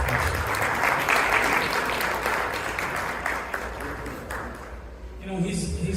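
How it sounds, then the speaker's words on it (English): An audience at a Chicago gathering celebrating a Karnataka election victory applauds loudly for about five seconds, steady dense clapping that thins out before a voice resumes at the end. "Please give a big round of applause for Iftikhar."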